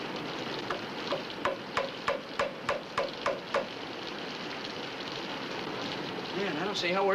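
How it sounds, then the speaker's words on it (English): Heavy rain pours down in a steady, dense hiss, with a run of sharp ticking clicks early on and a brief voice near the end. "That rain's really coming down now."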